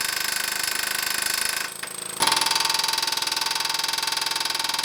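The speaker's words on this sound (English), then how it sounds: "We are going to be using an air hammer as well" A pneumatic air hammer, used on BMW E46 suspension work, rattles loudly in a rapid, steady stutter, stops for about half a second, then starts again and keeps going.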